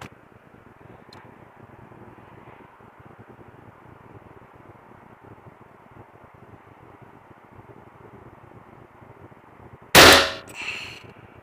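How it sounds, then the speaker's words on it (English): An air gun fires a yellow riot ball through a chronograph, a single loud sharp report near the end after a long stretch of quiet background hiss. "So next I'll be shooting a yellow riot ball."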